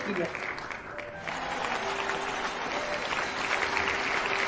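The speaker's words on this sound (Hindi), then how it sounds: "जोरदार ताली" Loud, sustained applause fills a hall at a DXN company event as cardiologist Dr. S. Ranjan is welcomed on stage. The clapping is steady and dense throughout, with voices mixed in under it.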